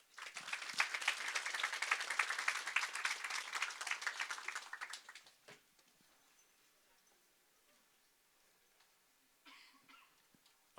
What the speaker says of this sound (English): a round of applause for Salomon Huerta.